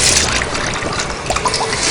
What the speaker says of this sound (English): Take some very warm tap water.